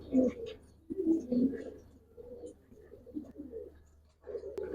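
Young Giribaz pigeons in a loft holding around sixty-five chicks give soft, repeated cooing calls in uneven clusters, close by over a low steady hum.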